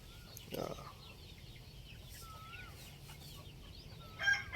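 A mid-sized Thai fighting rooster clucks at a cockfighting venue, with a short burst early on and another near the end over quiet background ambience.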